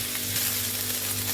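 Beef for a meat pie filling sizzles steadily while stir frying in a hot pan: a dense, even crackle with a low hum underneath and no voices.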